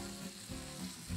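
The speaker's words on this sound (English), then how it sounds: "Oh, they're sizzling." Herb-seasoned lamb chops sizzle and fry in a pan, a soft, close, steady crackle with a few brief louder pops.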